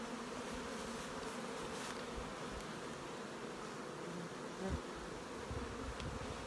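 Honey bee foragers returning laden with nectar buzz at a hive entrance during a summer honey flow, a dense, continuous drone of many wings, steady and fairly close, with no voices.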